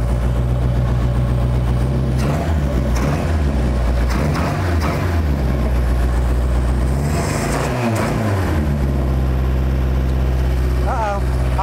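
An old 1977 Toyota Hilux six-wheeled mini truck engine idles with a low, steady rumble, then revs up and settles back a few times, with people talking over it.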